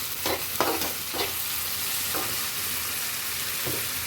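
Spinach curry seasoned with turmeric and salt sizzles steadily in a pan while a spoon scrapes and stirs through it in a few brisk strokes near the start and again later, close and clear.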